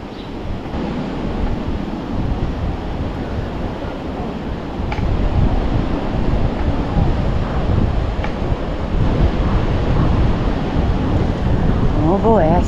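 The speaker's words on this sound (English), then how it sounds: "The wind here is quite a bit louder than at Pass-a-Grille. I hear a lot of surf roar" Strong wind buffets the microphone over a continuous roar of big surf breaking along a Gulf beach, loud and unbroken from start to finish.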